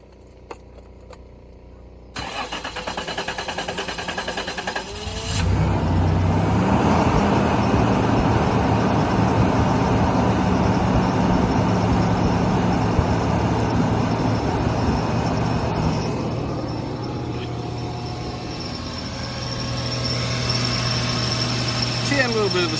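A third-generation Toyota 4Runner engine cranks and catches after a MAF sensor cleaning, then settles into a loud, steady running hum close by, with a slight unevenness that eases later; a person speaks over it.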